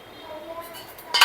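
A heavy thick-bottomed pot set down on a gas stove, one sharp metallic clink near the end after quiet kitchen hum.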